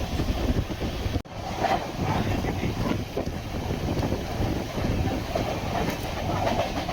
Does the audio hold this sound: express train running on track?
yes